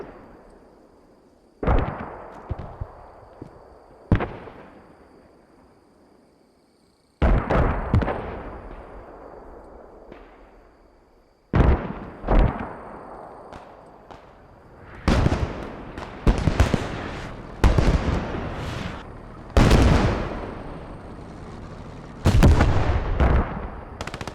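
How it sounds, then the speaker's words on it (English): Mortar fire from a 4-inch mortar in a multiplayer war video game: loud booming launches and impacts arriving in irregular bursts, sharp reports with long decaying rumbles, growing denser and more frequent toward the end, no talking. "Just incredible range with the 4-inch mortar."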